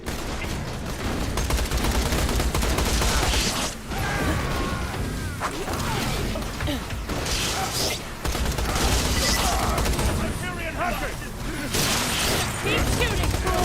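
Borderlands video game gunfire, with rapid bursts of shots and explosive cracks in quick succession, loud and busy, broken by short pauses, while a player talks over it.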